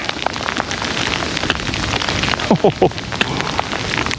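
Hail mixed with freezing rain falls outdoors in harsh winter weather, a dense steady patter of tiny ticks and taps with brief voices murmuring faintly underneath.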